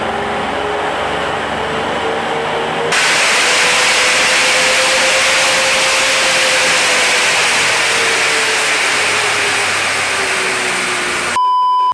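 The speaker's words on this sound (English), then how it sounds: "let's get it running on the dyno, let's get straight into it, and let's see what power it's running." An Audi S5 engine runs on a dyno with a loud, steady drone and a broad rushing roar as it is held under load, its pitch rising slightly then easing, with a beep near the end.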